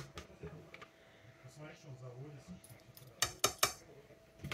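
Faint murmuring talk, then a few sharp clinks of glassware and dishes knocking together near the end.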